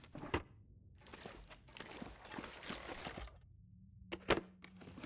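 A drawer being opened in The Long Dark video game: quiet clicks, thunks and short sliding rattles close up, with a faint low hum under them and no talk.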